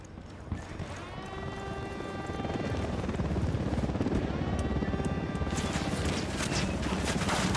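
A video game helicopter thumps loudly with a rapid rotor chop in a dense, busy mix, its blade beat steady and close throughout, rising slightly as sharper crackling hits join near the end.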